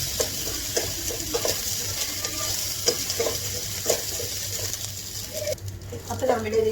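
A spoon stirs lemon rice mixed with lemon juice in a sizzling pan, giving steady scraping and stirring over a constant frying hiss, with some heavier clatter near the end.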